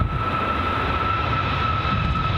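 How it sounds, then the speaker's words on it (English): A light aircraft approaches Edinburgh Airport in windy conditions, a steady engine drone with a sustained tonal whine over broad rumbling wind noise, loud and constant. "Light aircraft inbound next, by the sounds of it."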